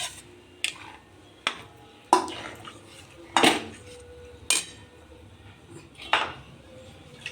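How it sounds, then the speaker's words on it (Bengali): Rice flour goes into hot water in a pot for Bengali dudh puli, with a metal utensil clinking against the pot in about half a dozen sharp, irregular knocks. No one speaks. "জলটা গরম হয়ে গেল এবার চালের গুঁড়িগুলো দিয়ে দিলাম"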